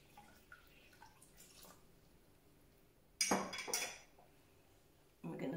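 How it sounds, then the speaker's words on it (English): Water pours from a tap into a Thermomix bowl holding sous vide packets, in two short splashing bursts with quiet gaps and faint drips and clinks between them. "Now I'm just going to add some more water until those packets are covered."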